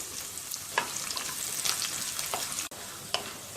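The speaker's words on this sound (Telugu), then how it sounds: "కొబ్బరి ముక్కలు, పచ్చిమిరపకాయ ముక్కలను వేసుకుని వేయించుకోవాలి" Peanuts, coconut pieces and green chillies fry in hot oil for a poha chivda mixture, giving a steady close sizzle with a few sharper crackles and stirring scrapes, no voices.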